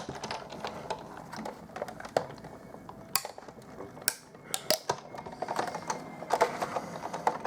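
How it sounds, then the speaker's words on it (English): A Big Shot die-cutting machine is cranked by hand through a paper flower die, giving a run of soft clicking, ratcheting and grinding noises with a few sharper clacks, close and fairly quiet. "crank this through the big shot."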